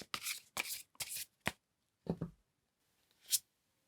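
Tarot cards shuffled by hand in a quiet room, four quick riffling bursts followed by a few softer card slaps and one final sharp snap, close and clear with no talking.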